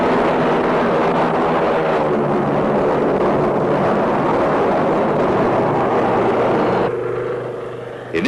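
A First World War training airplane in flight, its engine and propeller droning steadily and loudly throughout, easing off slightly near the end.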